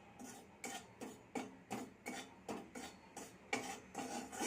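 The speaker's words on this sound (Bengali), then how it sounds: "আমি এই জিরের পাউডারটাকে একটুখানি গরম করে ভেজে নিচ্ছি।" Cumin powder dry-roasted on low heat in a pan, stirred with a utensil: about eight close, rhythmic scraping strokes with no talk.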